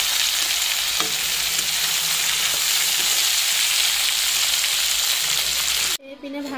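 Dangbori, potatoes and okra sizzle steadily in hot oil, a close, continuous frying hiss with occasional stirring clatter, cutting off abruptly near the end.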